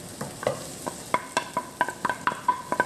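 Garlic and onion being sautéed in a pan for spicy cola adobo chicken wings: a spatula scrapes and taps in quick, irregular strokes against the pan over a faint sizzle, close by with no voices.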